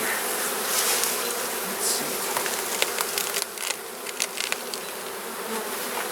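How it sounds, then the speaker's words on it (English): Honey bees swarm around an open beehive, a dense close buzzing that holds steady throughout, with a single spoken word briefly over it. "Wow, lots of bees at the front here."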